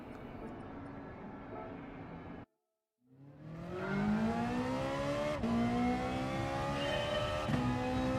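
A Ferrari engine in the racing game GT Sport drones steadily, cuts out for half a second, then revs back up with a loud climbing whine that holds strong to the end, with no talking.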